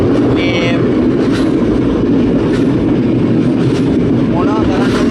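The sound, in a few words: train travelling to Puttalam, clickety-clack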